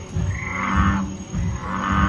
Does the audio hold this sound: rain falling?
no